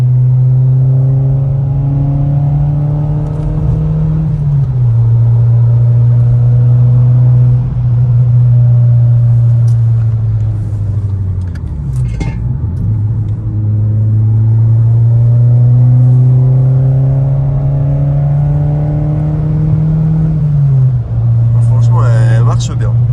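A customized Seat Ibiza drones steadily while driving, its engine pitch dipping and climbing with gear and speed changes for over twenty seconds, loud and close inside the cabin, with faint voices in the background.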